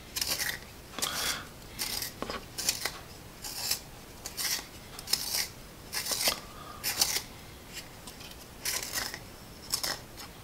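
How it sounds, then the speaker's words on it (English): A vintage Russian wooden pencil turned in an Apsara sharpener, giving a series of short, close, scratchy rasping strokes in a steady rhythm with brief pauses between turns. "we're getting a nice ribbon here of wood in the Apsara sharpener"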